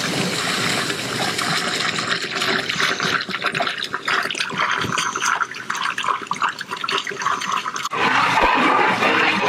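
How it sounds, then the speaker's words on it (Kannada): Bottled Bisleri water poured into a large biryani pot holding about 20 litres for 10 kg of rice, making a loud, steady rushing and splashing that runs almost unbroken throughout. "ನೋಡಿ, ಈಗ ಬಿಸ್ಲರಿ ನೀರು ಹಾಕ್ಕೊತಾ ಇದ್ದಾರೆ."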